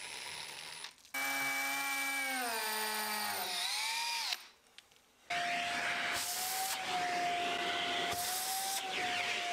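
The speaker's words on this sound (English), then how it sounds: "I drilled them to the depth I wanted using the hammer setting on my combi drill." Combi drill on hammer setting boring holes into a masonry wall, a loud whining motor with a rising pitch, a short pause, then another sustained drilling run with a rattling hammer action.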